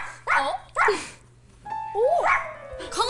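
A person imitates a dog, giving several short sharp barks and yips in quick succession, close and loud, with no other talk over them.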